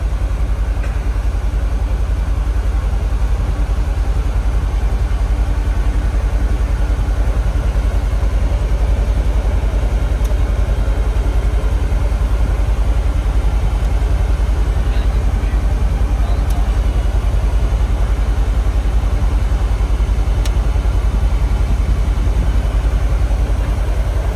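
A 2024 Polaris Xpedition side-by-side idles steadily with a low, continuous engine rumble throughout, with voices talking over it.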